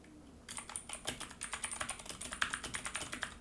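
Quick, steady clicking of computer keyboard keys, close and quiet, continuing for a few seconds without talk.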